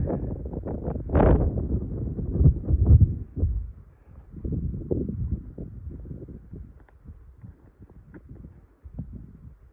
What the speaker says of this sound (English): The wind is still blowing, as you probably can hear